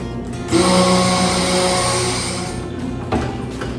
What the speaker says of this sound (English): let's blend just a little bit